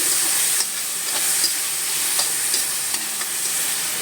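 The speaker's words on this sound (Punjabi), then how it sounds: "ਇਹਨੂੰ ਅੱਛੀ ਤਰ੍ਹਾਂ ਪਹਿਲਾਂ ਮਿਕਸ ਕਰ ਲੈਣਾ ਹਲਾਉਂਦੇ ਰਹਿਣਾ" Yogurt is stirred into sizzling masala in a pan, giving a steady close frying hiss with faint scraping stirs now and then and no voices.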